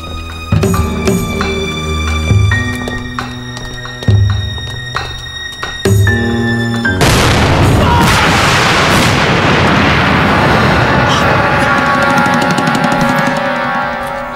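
A homemade delayed time bomb goes off in a wartime film scene. Several sharp, heavy booms come first, then one loud sustained blast with a long, roaring rumble. No voices are heard.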